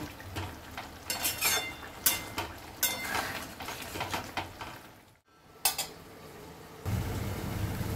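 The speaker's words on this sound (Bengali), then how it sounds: "এই রকম অবস্থায় আমি মটরশুঁটিটা এবারে দিয়ে দেব। নেড়ে চেড়ে নিয়ে আমি আবার ঢাকা দিয়ে দেব।" Mutton keema with potatoes and peas being stirred in a pan: repeated scraping and clattering strokes with a faint sizzle underneath, broken by a brief pause and then a steady cooking hiss.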